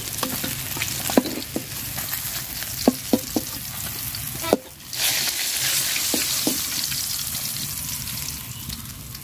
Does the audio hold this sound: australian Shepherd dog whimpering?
no